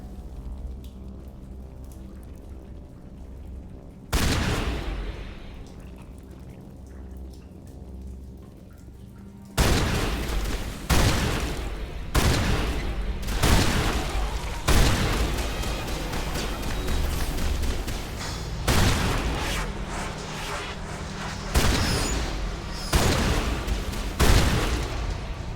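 Shotgun blasts in Mass Effect: loud booming shots at irregular intervals, each with a rough decaying tail, coming faster in the second half.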